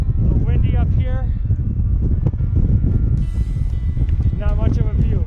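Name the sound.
wind at mountain summit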